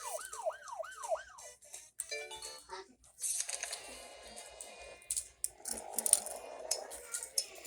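A wailing emergency siren sweeps up and down three times as a city noise effect, followed by a jumble of clicks, clatters and busy street noise that builds in layers.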